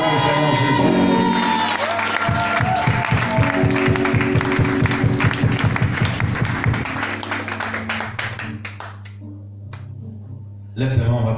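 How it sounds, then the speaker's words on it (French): A church congregation applauding and cheering in acclaim of the Lord Jesus, loud steady rhythmic clapping with crowd voices and music that fades toward the end. "Et acclame le Seigneur Jésus."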